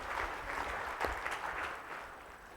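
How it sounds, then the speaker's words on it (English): Audience applause at a business roadshow event in Dubai, a steady even wash of clapping filling the short stretch, moderately loud and slightly fading toward the end. "Clap for Kamal and louder, louder one."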